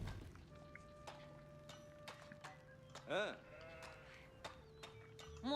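Sheep bleat in the Age of Empires IV video game, a few short wavering bleats over soft game ambience with chimes and footsteps, alongside tones from the game interface.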